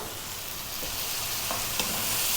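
Cooked spaghetti with tomatoes stir-fried in a hot pan for spicy arrabbiata pasta, a steady close sizzle with light scraping stirs, no talking.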